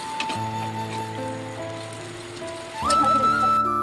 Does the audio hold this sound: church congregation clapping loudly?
no